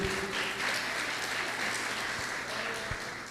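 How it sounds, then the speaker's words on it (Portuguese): A church congregation claps for Jesus during a service, a soft, steady patter of applause heard from some distance. "Aplauda Jesus mais uma vez, querida igreja."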